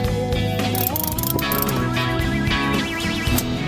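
Tool ratcheting as bolts at the front of a car seat are tightened back down in a vehicle, rapid loud metallic clicks in quick bursts, close up and alone without talk.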